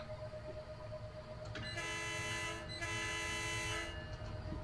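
A train simulator locomotive horn sounds twice on the San Bernardino Line, two long loud blasts with a short gap, over a steady rumble of an MP36PH-3C locomotive.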